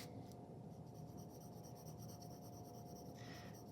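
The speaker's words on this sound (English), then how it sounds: "Start with that B pencil again." A soft graphite B pencil shades back and forth across paper as a corner-to-corner line is drawn, giving a steady, close scratchy rubbing that runs continuously without pause or talk.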